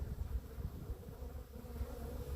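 Honeybees feeding outdoors in sunshine on Mann Lake Ultra Bee supplement give off a soft, continuous, close-up buzz with fluctuating intensity and no voices.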